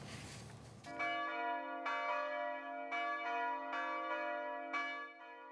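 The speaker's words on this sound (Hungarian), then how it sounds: "A szombat délutáni ünnepi szentmise végén kondultak meg a harangok" Two newly cast church bells ring at the end of a Saturday afternoon festive mass, marking the church's 50th anniversary. Several loud, resonant strikes come roughly once a second, each leaving a long humming tail.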